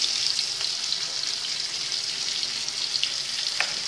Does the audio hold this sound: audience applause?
no